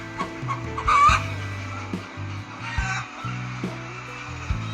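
Hens cluck steadily at a poultry farm in a continuous overlapping chatter, close and fairly loud, with a steady low hum running underneath.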